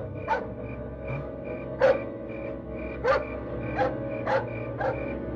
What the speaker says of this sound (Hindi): कुत्तों के भौंकने की आवाज